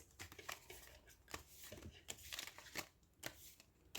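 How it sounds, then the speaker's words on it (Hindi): Tarot cards are shuffled by hand in quick, soft riffling bursts with crisp papery flicks repeating irregularly, faint and close, with no voice over them. "Let me just shuffle the cards, lovelies."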